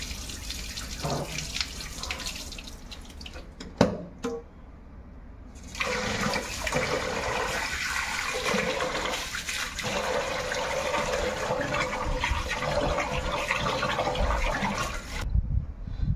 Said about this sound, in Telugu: రెండోసారి కడుగుతున్నానండి.